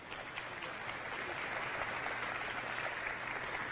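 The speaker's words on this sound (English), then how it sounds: "Big round of applause for them." Soft, steady applause from an audience at a prelaunch media briefing for NASA JPL's InSight Mars lander, heard faint and somewhat distant, sustained evenly without voices.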